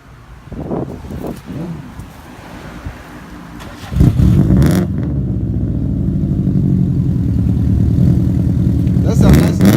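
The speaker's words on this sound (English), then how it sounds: "The exhaust is nice though." A 2002 Subaru WRX engine starts, then settles into a loud, steady exhaust idle with a rising rumble that continues close by, with brief voices heard near the start.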